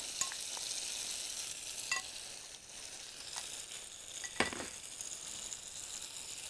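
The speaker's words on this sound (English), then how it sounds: "It is always tricky with ground meat because you need to divide it into pieces" Ground meat frying in a pan, a steady sizzle with the scrape and tap of a fork breaking it into pieces.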